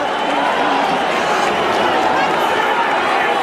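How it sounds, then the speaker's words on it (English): A crowd of thousands at a Mike Tyson boxing match boos in a dense, steady, loud roar of voices that does not let up. "Always difficult to know why a crowd is booing."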